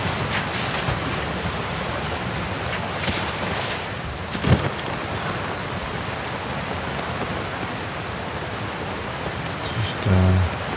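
Steady rain hisses through a rainy scene in the video game Zelda: Tears of the Kingdom, a continuous broadband wash with brief louder bursts and a short low thump near the end, with no talk.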